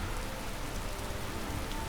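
Steady rain pours down in the video game Skyrim, a dense, even hiss of falling water that holds at a constant level throughout with no other sounds on top.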